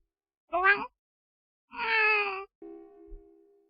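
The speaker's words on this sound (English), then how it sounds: "I could always hear you meowing" A cat meowing in the Hellnight video game, two short close meows separated by silence, followed by a quieter tonal sound.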